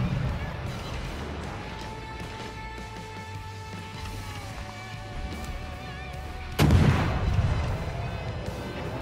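Warship gunfire in World of Warships: one heavy, sudden blast of naval guns that booms out after a quieter stretch of engine hum and tones. It is loud and close, and its rumble lingers.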